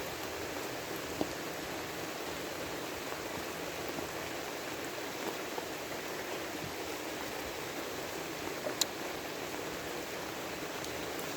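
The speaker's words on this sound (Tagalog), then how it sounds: "Ay, lakas kasi ng ulan, oh." Heavy rain pours steadily in a rural setting, a dense continuous hiss with occasional sharp drops, loud and unbroken throughout.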